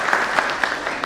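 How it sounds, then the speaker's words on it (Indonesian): A brief burst of audience clapping at a stand-up comedy show in Indonesia, thin and scattered, lasting about a second. "Boleh tepuk tangannya dulu?"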